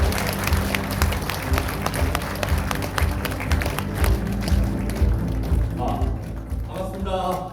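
Audience applause at a political party gathering welcoming the chairman, a full room of hands clapping in a sustained, slightly rhythmic roar, with a voice beginning to speak near the end.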